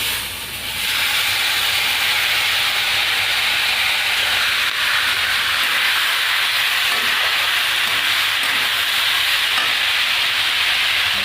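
A yardlong bean mixture coated in mustard oil hits a hot wok and sizzles steadily, a loud, even frying hiss that starts almost at once and holds close and constant throughout.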